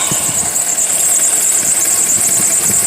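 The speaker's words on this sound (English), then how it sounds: "we have this problem with our misfiring going on with our ignition coils" Car engine misfiring from faulty ignition coils, a close, loud, rough idle with an uneven knocking pulse under a steady high whine.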